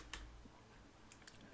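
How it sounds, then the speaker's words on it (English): Faint, sparse clicks of computer keyboard typing, a few separate keystrokes heard quietly against a low background hum. "Please stop typing."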